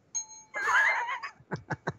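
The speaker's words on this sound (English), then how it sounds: "Wait for the bell, Rock." A bell sound effect plays on a live radio show: a bright ding-dong chime, followed by a few short, quick bursts of sound.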